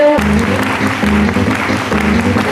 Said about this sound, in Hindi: और एक बार जोरदार तालियों के बीच मैं माइक्रोफोन उन्हीं को दे रहा हूँ।